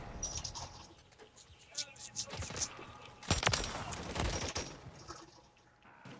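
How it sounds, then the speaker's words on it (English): Gunfire from teammates in Call of Duty: Modern Warfare 3, scattered sharp shots with a denser burst near the middle, fairly quiet and mixed with other game sounds. "Can my team stop shooting me?"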